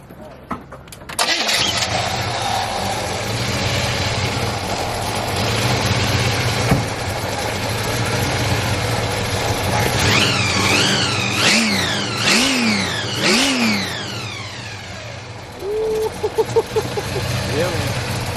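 A supercharged 1955 Chevy Bel Air V8 cranks and fires up, settling into a loud, lumpy idle before several sharp revs rise and fall in quick succession, with people talking nearby.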